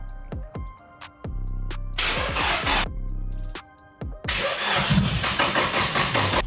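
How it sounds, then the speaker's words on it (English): A Nissan Silvia being hotwired cranks repeatedly in short starter bursts, several failed attempts in a rhythmic sequence, before catching into a loud, rough running engine near the end; close and clear, no talking. "We're gonna try to hotwire the car and try to force to start like this."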